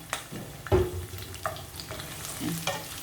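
Mustard oil frying lightly in a pan, with soft intermittent sizzling and scraping stirs in a few short bursts, close by and fairly quiet, no voices.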